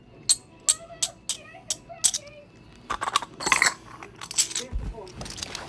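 Silver coins clink together close by, first in a series of sharp separate chinks, then in a busier jangle of overlapping clinks and rattles.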